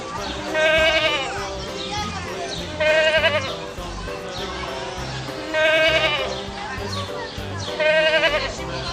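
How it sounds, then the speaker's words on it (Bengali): A young goat kid bleats in short, clear cries that return at regular intervals, about four times, over a busy, steady backing sound. "ছয়ে ছাগল ছানা লাফিয়ে চলে।"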